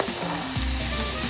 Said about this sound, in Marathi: तो अनियन आपल्याला गोल्डन फ्राय होईपर्यंत करायचं आहे.